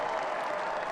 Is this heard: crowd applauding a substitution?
yes